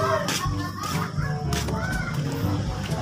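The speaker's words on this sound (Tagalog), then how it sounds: "Sa manok na Bisaya." Native Filipino chickens cluck nearby while a rooster crows, with other birds and faint background noise mixed in.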